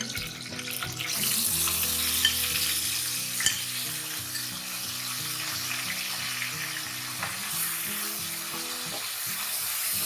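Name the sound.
chicken pieces frying in oil for chowmein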